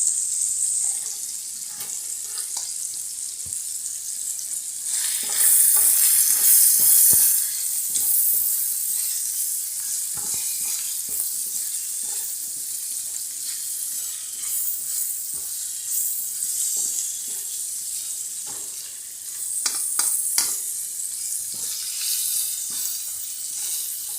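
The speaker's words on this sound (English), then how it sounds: "just cooking the sausage" Italian sausage fries in a pan with a steady, hissing sizzle throughout, occasional soft pops and crackles rising now and then, with no talking.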